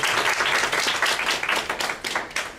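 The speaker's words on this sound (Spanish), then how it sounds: "Démosle la bienvenida al doctor con un fuerte aplauso." A short burst of audience applause welcoming a doctor as the speaker at an academic talk, dense clapping at steady volume from start to end.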